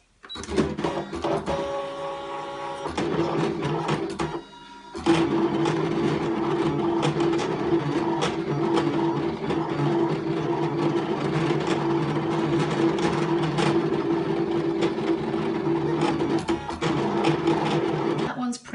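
A ScanNCut cutting machine cuts a sticker sheet, giving a steady mechanical whir with tonal motor hum, a short pause near the start, then continuous close buzzing with small rhythmic clicks.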